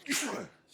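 A person sneezes once, a short sharp burst close to the listener that fades quickly into quiet.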